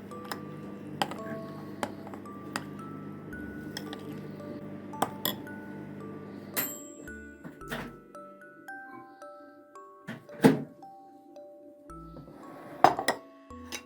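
A dessert mixture is stirred in a bowl with a spoon, giving clinks and ringing taps of metal on glass or ceramic. A few sharper clinks stand out over a quiet background.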